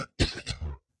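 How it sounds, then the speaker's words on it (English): A short burst of harsh coughing, two or three rough hacks in quick succession, close and fairly loud. "The king was coughing uncontrollably."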